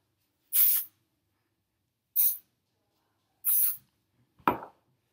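Three short, hissing hairspray bursts a second or so apart, sprayed close on hair and fairly loud, followed by a brief soft rustle.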